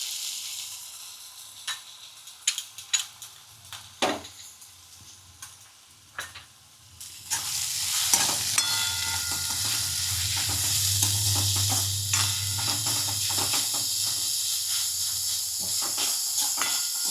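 Onions dropped into hot oil for veg paratha filling, first a few clinks and taps in a quiet pan, then a loud burst of sizzling that settles into a steady hiss with occasional stirring.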